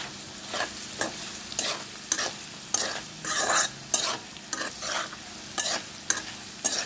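Potatoes fry in a pan with a steady sizzle, broken by a regular series of sharp scraping stirs every half second or so, close up with no talking.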